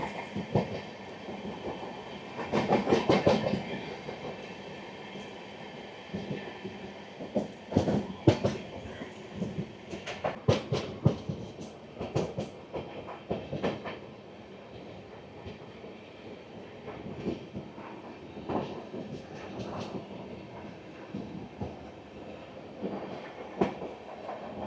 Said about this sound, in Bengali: সেই এনআরএর রেকটি নিয়ে আসা হচ্ছে শিয়ালদা স্টেশনে